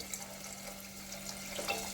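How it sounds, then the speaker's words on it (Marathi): Water runs steadily into a cooking pot of rice, a soft continuous splashing pour with no voices. "आता त्यात पाणी टाकत आहोत"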